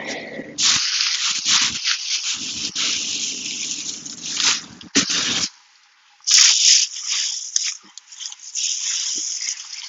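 Compost of kitchen scraps, yard waste and leaves being stirred outdoors in winter, with wet squelching and rustling churns in bursts, close by, broken by a short pause.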